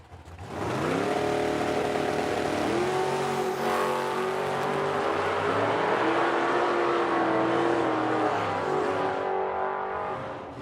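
At a drag strip, a 1966 Ford Mustang and a Volkswagen Karmann Ghia launch side by side: loud, sustained engine roar with rising revs and gear changes that holds for about ten seconds without a break.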